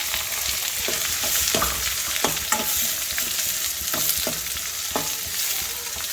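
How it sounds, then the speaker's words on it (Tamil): Chopped onions sauté in a hot pan with garlic for an anchovy fish curry, giving a close, steady sizzle with repeated scraping stirs and no talking. "கொஞ்சம் வெங்காயத்தை போட்டு லேசாக வதக்கிக்கணும்"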